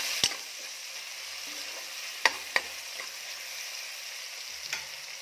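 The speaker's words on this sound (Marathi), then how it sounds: "तर छान हे परतून घेऊया." Chopped tomato sizzles steadily in hot oil in a pan while being sautéed for Malvani chicken, a continuous close frying hiss broken by a few sharp clicks of a spatula against the pan; no voices.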